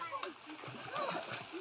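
Children splashing in water during village swimming lessons, soft, irregular splashes and gurgles heard faintly under excited children's voices talking and calling.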